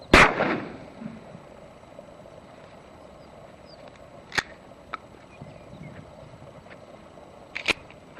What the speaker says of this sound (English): So that was the 12 gauge slug.